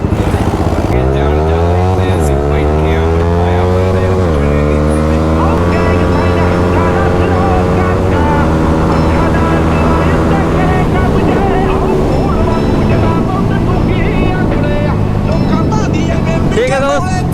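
A Yamaha R15 V4 and a KTM RC200 roar loud and close in a drag race, engines revving and climbing in pitch through repeated gear shifts before settling into a steady high drone.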